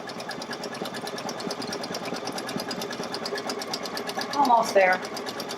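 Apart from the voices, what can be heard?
sewing machine sewing a satin stitch at increased speed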